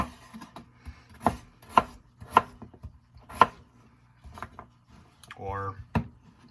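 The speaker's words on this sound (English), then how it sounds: "Just cut them into cubes." A knife cuts peeled red skin potatoes into cubes on a board, a handful of distinct sharp knocks at an uneven pace, close and fairly quiet, with a brief scraping sound near the end.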